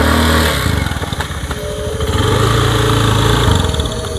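A motorcycle engine runs close by, a rough, pulsing putter that dips briefly and then holds a louder, steady drone, heard alone without talk.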